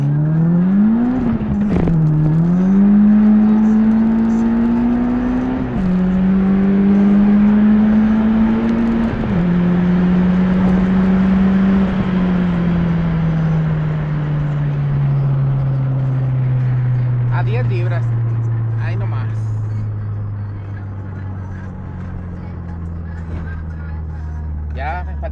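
A Nissan 200SX SE-R with a turbocharged SR20DET engine boosted to 10 psi idles up close, its hum wavering, then sinking steadily lower until it stalls, with quieter ambience left at the end.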